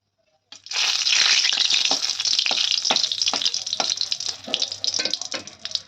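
Two dried red chillies hit hot oil for a tempering, bursting into a loud, steady sizzle after a brief silence, with sharp crackles and pops scattered through it as the spices fry close by.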